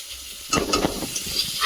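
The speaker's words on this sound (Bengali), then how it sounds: "আলু ভাজার তেলেই মশলাটা ভেজে নিচ্ছি" Spice paste frying in oil left over from frying potatoes for a chicken curry, a low hissing sizzle that swells into a brief burst of crackle partway through, then settles, with no talking.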